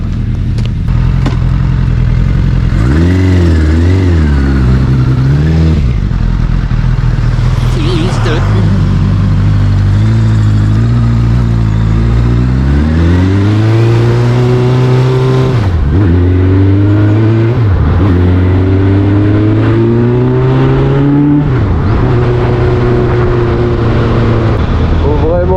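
A Suzuki Bandit motorcycle engine rumbles loud and close throughout a ride on a flat tyre, rising and falling in pitch as it revs through gears, with a voice talking over it at times.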